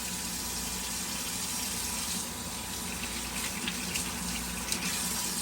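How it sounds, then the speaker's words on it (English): Tap water runs steadily in a kitchen sink while hands are washed before cooking, a constant close rushing splash with no voices. "one of the most important things that she's doing here is washing her hands"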